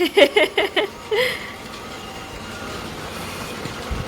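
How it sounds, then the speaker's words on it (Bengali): A toy train pulling a coupled carriage runs slowly along its track, making a faint steady whirring rattle after a few short vocal bursts from someone at the start. "আমাদের ট্রেন ট্র্যাকে চলছে সুন্দর করে।"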